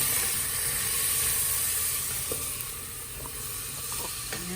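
Onions sizzle steadily as they cook down in a pan for baked ziti, a close, continuous bright hiss with faint crackles and a few light stirring clicks.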